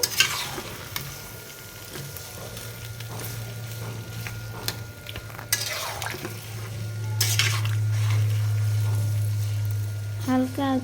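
A spatula stirs olives in a pan as pickle cooks, giving a steady scraping and sizzling texture with soft clinks, louder in the second half and ending on brief tonal chimes.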